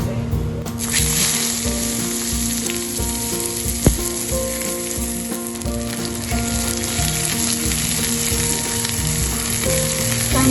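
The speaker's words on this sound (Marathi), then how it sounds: "चमचाभर जिरे घालते थोडस हिंग आणि चार मेथीचे दाणे आता यातच आपल्याला कांदा घालतो" Onion frying in hot oil with cumin, a pinch of asafoetida and fenugreek seeds, a loud, close, steady sizzle that carries on throughout with one sharp tap of a utensil.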